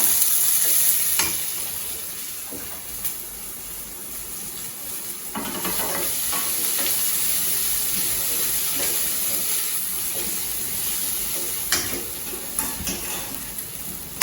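Steady sizzling of jackfruit sautéing in a pan over low heat, with occasional scraping and stirring clatter throughout; no voices.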